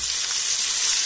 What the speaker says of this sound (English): I'm just going to mix it all about and give it a good stir fry for about 5 minutes